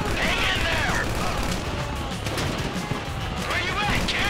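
A chaotic shootout in Grand Theft Auto V rattles on with dense bursts of gunfire and crashing impacts throughout, steady and loud, while voices shout over the din.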